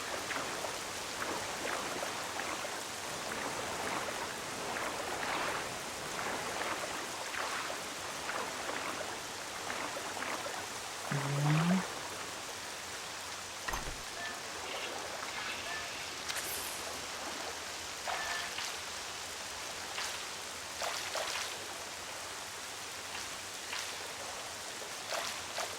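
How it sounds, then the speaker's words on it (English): Steady rainfall in The Legend of Zelda: Twilight Princess makes a dense, even hiss of falling drops that runs throughout, with a few brief game effects on top and no talk. "Now it's raining."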